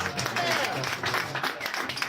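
An audience at a live podcast taping applauds with dense, steady clapping, with voices mixed in among the crowd.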